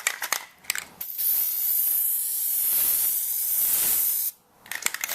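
A spray can lays a coat of Plasti Dip onto a Toyota Tundra badge in one sustained, close hiss of about three seconds, framed by brief clicks and rattles before and after.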